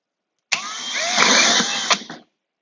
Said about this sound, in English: I'm using a hole saw the same size as my poly pipe